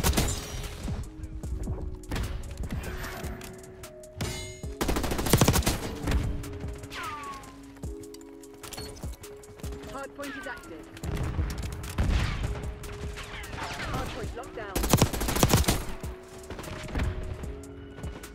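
Rapid bursts of KSV gunfire in Black Ops 6 crack through an ongoing multiplayer match, with loud volleys clustered around the middle and near the end, mixed with thuds and game effects.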